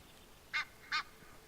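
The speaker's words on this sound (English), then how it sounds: "But that's the geese, right?" Two short honks from geese in the hunting game Way of the Hunter, out on the Tikamoon Plains, each sharp call standing apart over a quiet background.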